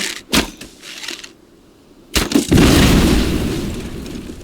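Barrels explode in the video game Enshrouded, a sharp booming blast followed by a long rumbling crumble of collapsing debris, loud and close after a few earlier thuds.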